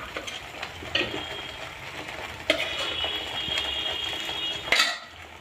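Paneer cubes are gently added and stirred into green palak spinach gravy in a pan. A utensil clinks and scrapes at a few spaced moments over a soft, steady sizzle, with no talking.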